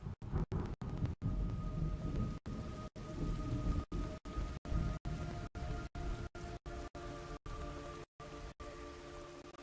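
Rain in Metal Gear Solid Delta on PS5, with a dense, steady downpour and low rumbling rolling underneath, broken by repeated sharp dropouts.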